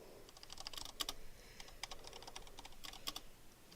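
Quiet, hesitant typing on a computer keyboard, scattered clicking keystrokes with uneven gaps, faint and close against a soft background hiss.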